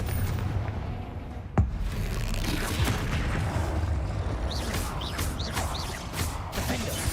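A Confringo spell blast in Hogwarts Legacy gives one sharp, booming hit over a busy wash of game combat noise, followed by scattered lighter magical crackles.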